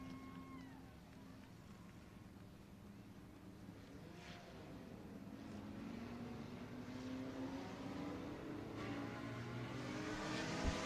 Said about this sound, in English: We are racing in your second heat race in the IMCA Sport Compacts.